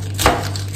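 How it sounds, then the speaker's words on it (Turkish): A knife chops vegetables on a cutting board in a home kitchen, one sharp close chop standing out over a steady low hum. "Bunları güzel doğrayıp yıkayıp"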